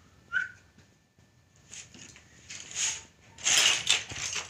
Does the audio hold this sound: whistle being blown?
yes